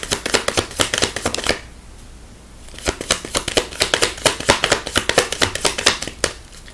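A deck of tarot cards is shuffled up close in quick, crisp riffling bursts, with a brief pause before the shuffling resumes in a fast rhythm.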